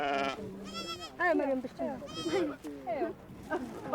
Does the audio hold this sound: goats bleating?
yes